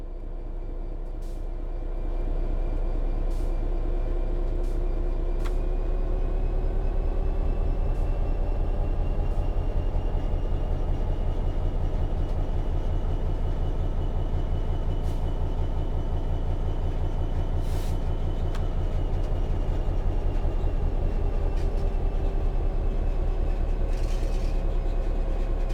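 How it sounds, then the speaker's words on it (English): A train pulls away under power in the video game Train Sim World 3, with a steady loud rumble and a rising motor whine that continue throughout, plus occasional faint clicks and no speech. "Apply some throttle to get the train moving."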